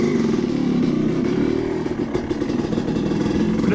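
A Honda CR250 two-stroke dirt bike, warmed up during break-in, idles steadily up close with a dense, buzzing engine note and a few small throttle blips, with no one talking.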